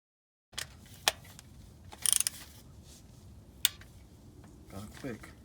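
A ratchet tightening bolts on a Dodge Ram transmission, with a few scattered clicks and a short burst of rapid ratcheting in a quiet garage, plus faint handling noises.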